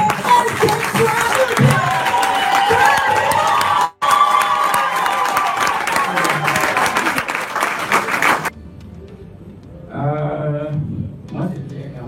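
Large audience applauding and cheering for a speaker being introduced on stage at a business gathering, dense sustained clapping with shouts, then cutting off and giving way to a voice speaking alone.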